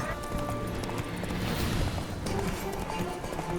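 Horse hooves galloping in The Witcher 3, a steady rapid clip-clop of a running horse under ambient game music, moderately loud and continuous.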